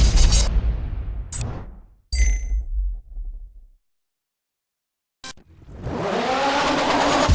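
Peugeot 405 T16 Pikes Peak hill climb car engine in the racing game DiRT 3, loud bursts of revving separated by abrupt cuts and a stretch of silence, then a sustained rising roar near the end.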